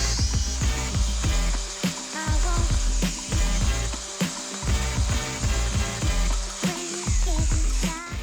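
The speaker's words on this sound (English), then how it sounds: "give them a nice little sand to clean them up all the dirt and debris that's from the tumbling process" Tumbled keychains being sanded to clean off grit from tumbling, giving a close, loud run of rhythmic rasping scrapes repeating roughly every half second over a steady mechanical whir.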